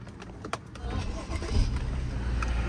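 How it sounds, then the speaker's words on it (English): A 2012 BMW 535i with a 3.0L engine and a misfire fault starts up: a sharp click comes first, then the low engine rumble rises and settles into a steady idle, close by, with soft background noise. "and then I have to start the car."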